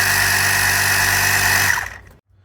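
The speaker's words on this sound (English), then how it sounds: "as soon as you do, you're going to hear the pump is running" A 12 volt, 250 PSI tire inflator pump from a car emergency kit runs with a steady, loud motor drone and mechanical vibration, then cuts off and winds down to near silence in the final half second.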